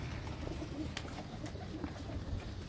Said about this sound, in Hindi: ये सारे फिरत वाले कबूतर हैं